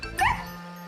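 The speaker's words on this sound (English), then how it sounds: "She gave a little bark." A single short, high yip from Snuffy, a small cartoon dog, sounds briefly over a faint background hum.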